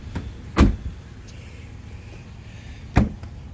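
Rear door on a 2018 Ford F250 extended cab short-box truck with a 6.2L V8 being shut: two solid, close thumps about two seconds apart, separated by quiet, with no talking.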